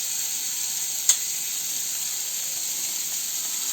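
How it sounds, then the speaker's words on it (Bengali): Spice paste for doi katla, a Bengali fish curry, fries in a pan with a steady bright hiss that runs the whole time, broken by one sharp clink near the start, and no voices. "খুব ভালোভাবে মশলাটাকে কষাবো যাতে মশলার মধ্যে কোনো গন্ধ না থাকে"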